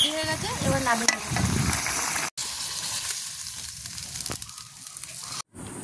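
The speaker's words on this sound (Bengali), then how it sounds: "গ্রেভিটা ফুটে গেছে, এবার ভেজে রাখা কোপ্তাগুলো দিয়ে দেবো" Gravy for banana stem (thor) kofta curry bubbles and sizzles in a pan, a close steady crackle with a few brief scraping and stirring noises and short gaps.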